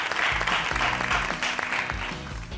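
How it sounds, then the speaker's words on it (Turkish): Applause from an audience at a prize draw for a gold coin fills the whole stretch, dense and steady clapping with a low hum beneath. "Alkışlarla."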